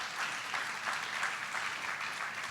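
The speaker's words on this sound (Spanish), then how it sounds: "¿Habrá alguien aquí que le dé un aplauso al Señor?" Congregation applause at a church service, a dense, steady wash of many hands clapping at even loudness throughout, with no voice over it.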